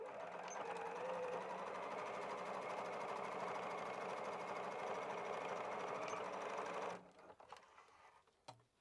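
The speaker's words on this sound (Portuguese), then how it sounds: "Vamos passar outra costurinha aqui igual a gente acabou de fazer." A sewing machine stitches through fabric and felt with a steady, fast mechanical whir that runs for about seven seconds and then stops, followed by faint handling clicks.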